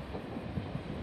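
A train pulling in at platform 4 of Lidcombe station, a steady loud rumble of the rail cars rolling close by with faint clunks, no voices.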